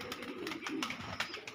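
Pigeons kept for sale coo softly in short, repeated bursts, faint and close together, with no voices over them.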